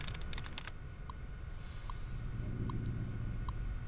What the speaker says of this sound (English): How is he typing? He's not having his hands on the keyboard.